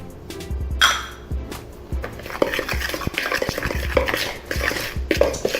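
A utensil scrapes and clinks around a bowl, stirring dry spices like black pepper and smoked paprika for buffalo cauliflower, with rhythmic close taps against the bowl's side.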